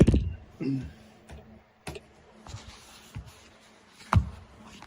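Computer keyboard being typed on, including a Control Delete key combination: sparse, close, quiet key clicks, with a few louder thumps and gaps of near silence between presses.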